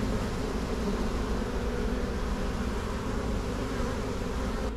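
A dense, loud, constant buzz of a honeybee swarm fills the air close by as comb is taken out, an unbroken drone of thousands of bees with no pauses.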